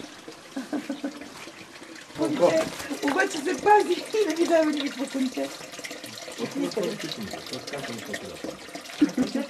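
Water from a healing spring trickles over wet stones in a steady, gentle wash, heard mostly beneath people talking close by.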